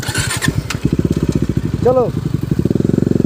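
Bajaj Dominar motorcycle engine revving and idling up close with rapid, pulsing firing beats, joined by other bike engines, while people talk over it.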